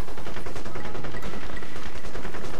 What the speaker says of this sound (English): They're shooting at something else